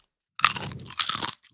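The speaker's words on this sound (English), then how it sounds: "listen to the crunch" Two crisp, close crunches of buffalo-flavored Wilde protein chips being bitten and chewed, each a short dry crackle separated by a brief pause, in an otherwise quiet room.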